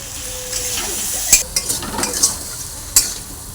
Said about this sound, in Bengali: এবার সব কিছু একটু ভালোভাবে ভেজে নিচ্ছি বন্ধুরা